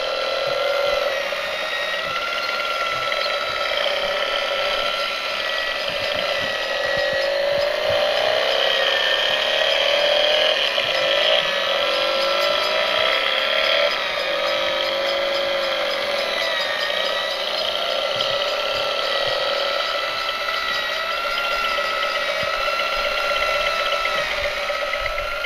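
A model R90 engine running at a steady, even pace, a continuous busy mechanical whir with fine clicking of moving parts, close and unchanging throughout.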